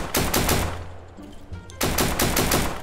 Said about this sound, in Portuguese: Eu não tô conseguindo identificar de onde vem o tiro